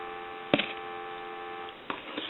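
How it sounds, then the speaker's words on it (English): A steady payphone dial tone hums continuously, interrupted by a couple of brief clicks. "I want to give you some dial tone."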